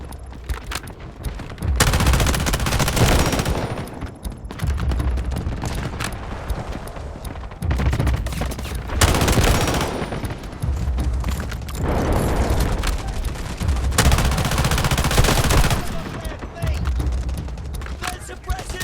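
Sustained suppressing gunfire fills a battle in the mobile shooter Delta Force Mobile, with dense overlapping bursts and booms in heavy waves and brief game voice lines mixed in.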